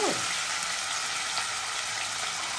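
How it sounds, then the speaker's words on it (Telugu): Chana dal dropped into hot oil for a jackfruit curry tempering: a bright, steady sizzle close up, brief and unbroken, with no speech. "ఆయిల్ వేడెక్కిన తర్వాత పచ్చిశనగపప్పు వేసుకోవాలి"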